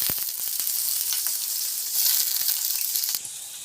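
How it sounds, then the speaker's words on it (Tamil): Chopped big onions and small shallots with curry leaves sautéing in hot oil for a banana flower stir-fry, a steady close sizzle and crackle with scattered pops, loud and continuous without talk. "இப்போ வெங்காயம் கொஞ்சம் வதங்கிக்கிட்டு இருக்குது."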